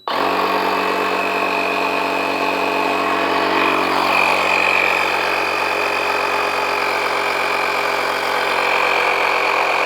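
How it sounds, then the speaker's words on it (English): A cordless portable air compressor runs steadily while inflating a bicycle tire, producing a loud, constant mechanical whine and buzz with a motor drone, unchanging throughout with no talking. "press the play button on your air compressor"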